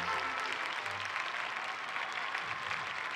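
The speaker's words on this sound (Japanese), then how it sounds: "拍手。" Sustained applause from a crowd, a dense, even patter of clapping that stays loud from start to finish.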